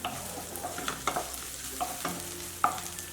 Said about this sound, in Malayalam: ഈ കുരുമുളകും കൂടി ഇട്ട് കൊടുക്കാം.